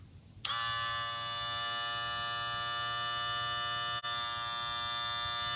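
A livestock clipper with a 36-volt DC motor switches on with a sharp click and runs with a steady, tonal electric buzz, close and fairly quiet, with a brief dip near the end.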